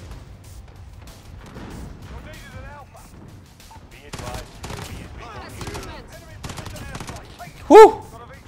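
Burst fire from an FAL rifle in Modern Warfare comes as several sharp clusters of shots between stretches of in-game noise and clatter, with one loud bang near the end.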